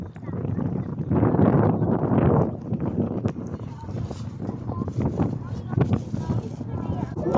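Strong seaside wind buffets the microphone with a continuous loud, rough roar. The gusts peak early and stay heavy throughout, and voices sound faintly underneath.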